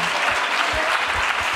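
A live audience bursts into dense, steady applause, a continuous wash of clapping at full volume for the short stretch, with no voices on top.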